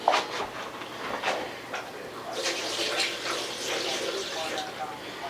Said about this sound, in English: Take and pour some more beef broth in.